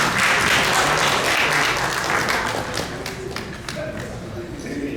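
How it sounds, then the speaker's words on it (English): Applause from the audience at a United Nations Day of Peace event greets an arriving speaker, a loud, dense clatter of many hands that slowly thins, with scattered voices and a few thuds mixed in. "let's give him a round of applause as he makes his way"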